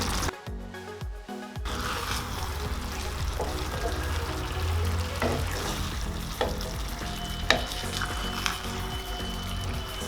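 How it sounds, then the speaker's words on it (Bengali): Kachki fish curry cooking over a low flame in a pan, stirred gently now and then; a steady close sizzle runs throughout with soft scraping and stirring sounds, after a brief quiet moment at the start. "আমি মাঝে মাঝে আলতো হাতে নেড়ে দেব।"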